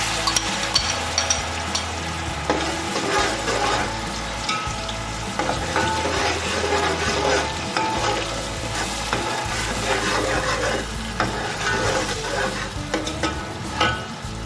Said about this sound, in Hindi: प्याज को हमें इतना भूनना है कि इसका कच्चापन ख़त्म हो जाए और पिंक सा कलर आ जाए इसमें